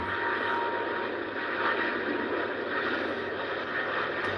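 A fully loaded British Airways Airbus A350, flight BA273 to San Diego, takes off at Heathrow with a steady, broad engine roar that holds loud and even throughout, with no voices.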